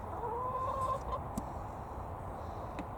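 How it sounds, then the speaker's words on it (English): Backyard hens give soft, scattered clucks and murmurs around a freshly wood-chipped run floor, fairly close but low in level, with no talking. "So chickens very happy."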